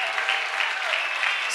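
A congregation at a church deliverance and healing service claps for Jesus, a dense, steady wash of applause sustained throughout, with a faint voice threaded underneath.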